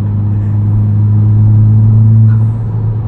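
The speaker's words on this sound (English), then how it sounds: "If you're gonna get a turbocharged front wheel drive hot hatch, yep, turbo noises is what it's all about." A modified, turbocharged 2021 Honda Civic Type R front-wheel-drive hot hatch drones from inside the cabin, a loud, steady low engine rumble swelling slightly before easing off.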